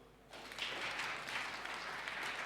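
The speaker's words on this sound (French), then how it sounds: "Applaudissons pour eux." A church or seminary audience breaks into applause after a brief quiet moment, a soft, fairly distant patter of clapping that holds steady to the end.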